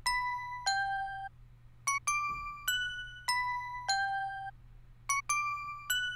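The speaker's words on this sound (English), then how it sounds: "And the last melody we got is obviously the bell." A bright bell melody from an FL Studio beat plays in a clear, ringing sequence of struck tones, rising and falling notes in looping phrases with short gaps, alone over a faint low hum.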